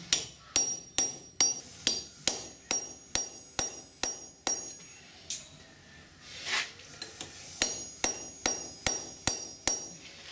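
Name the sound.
hammering a punch through leaf spring steel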